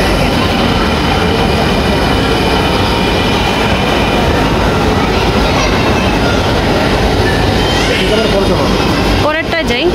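A Dhaka metro rail train pulls into a crowded station with a loud, steady rumble and rattle that fills the platform, ending in sharp wheel squeals. Voices from the waiting crowd mix into the din.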